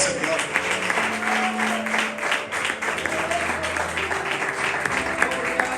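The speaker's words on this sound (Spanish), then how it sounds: "Dale un aplauso al Señor." Applause from a church congregation, a steady wash of clapping from many hands that runs the whole time, with a preacher's voice and a sustained note carrying over it.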